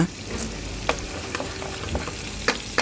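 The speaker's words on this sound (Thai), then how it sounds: "อันนี้เราก็จะผัดไข่นะคะ ผัดไข่ให้สุก" Two eggs stir-fried with cooked pork in a pan, a close sizzling fry punctuated by repeated sharp scrapes and taps of a spatula against the pan, with no talking.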